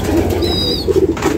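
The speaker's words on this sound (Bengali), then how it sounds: "কবুতর গুলো উড়ে বেরোতেছে।" Pigeons flap their wings as they fly out of a wooden loft, a brief, close burst of fluttering with a faint bird call mixed in.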